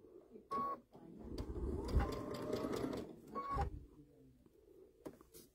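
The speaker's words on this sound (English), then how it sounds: "I'm going to sew, keeping my point here." A Baby Lock Altair 2 sewing machine stitching fabric runs in a steady close whir for a few seconds, with short clicks and pauses around the run.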